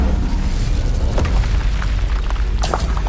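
A fire spell cast in Hogwarts Legacy, a loud whooshing burst of flame rolling over a continuous rumbling game soundscape, with short crackling flares near the middle and again at the end.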